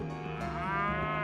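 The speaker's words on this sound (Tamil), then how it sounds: "நாங்க ஏறு மாடுகளோட வந்துட்டோம்." Plough bulls give a single long, drawn-out moo, steady and fairly close, with no other sounds around it.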